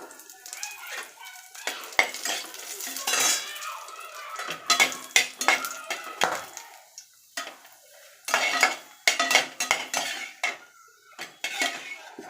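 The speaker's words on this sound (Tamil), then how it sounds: "இந்த மிளகாய் வறுத்து எடுத்துப்போம்" Dry red chillies dry-roasting in a pan without oil for horse gram idli podi, with frequent metallic clinks and scrapes of a spoon stirring against the pan, close and irregular, under a faint sizzle.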